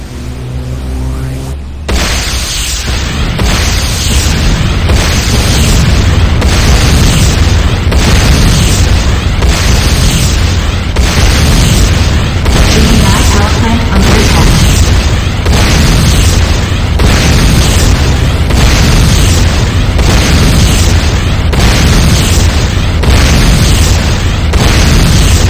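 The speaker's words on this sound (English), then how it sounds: "Enemy structure destroyed." Enemy structure being destroyed in the game Renegade, with a sudden heavy boom after a short lead-in, followed by a long, loud, rumbling roar of explosion and debris that pulses steadily and never fades.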